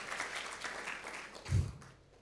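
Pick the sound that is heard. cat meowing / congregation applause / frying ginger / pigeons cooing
congregation applause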